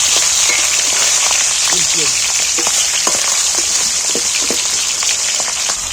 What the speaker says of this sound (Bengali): মাছটাকে আমি তেলের মধ্যে ভালো করে ভেজে নিয়ে